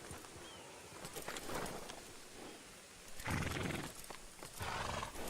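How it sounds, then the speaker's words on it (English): Horse sounds with hooves clip-clopping and a possible whinny, moderately loud in bursts over a background, with no clear talk. "Whose horse is that?"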